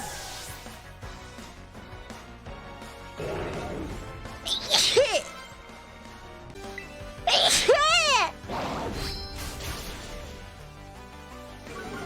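A female streamer sneezing during a live stream, with two sharp sneezes several seconds apart amid her chatter and faint background sound.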